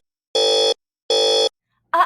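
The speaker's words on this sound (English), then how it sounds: "Suddenly, a loud bell rings in the firehouse." A fire alarm in a firehouse sounds two loud, steady electronic bursts with a short pause between them, followed immediately by the start of someone speaking.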